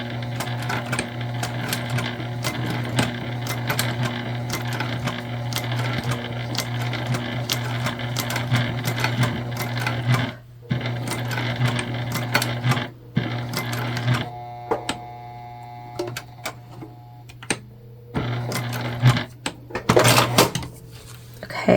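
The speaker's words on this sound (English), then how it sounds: "We are back stitching." A sewing machine back-stitches the seam of a recycled-fabric shoulder bag, its steady rapid stitching whirring loud and close for long runs, pausing briefly and restarting with shorter bursts near the end.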